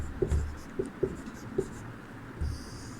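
Chalk scratching on a board during a Sanskrit lesson, a few short taps and strokes with brief pauses between them, close and fairly quiet.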